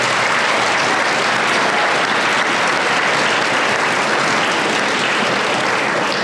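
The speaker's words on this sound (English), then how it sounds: "Let's give all of our teachers a round of applause." At a Diman senior awards ceremony, an audience gives its teachers a loud, dense round of applause that holds steady for several seconds, a continuous wash of many hands with no voices over it.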